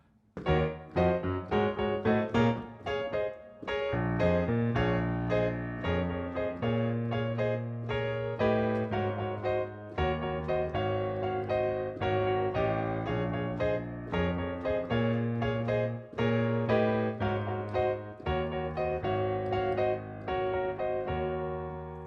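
Solo piano playing the pre-chorus of a song, a steady chordal passage, rhythmic and full, with repeated bass notes and a busy right-hand part, continuous and clear.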